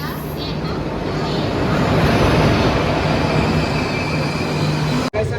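Loud, steady rumble of a train rolling in, a continuous rail roar with a faint hum, cut briefly just before the end.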